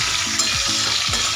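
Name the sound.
bell peppers frying in oil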